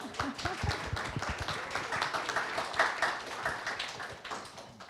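An audience claps at a book fair talk about getting published by a traditional publisher: soft, scattered clapping in a hall, fairly faint and continuous, with some quieter hand claps standing out early on.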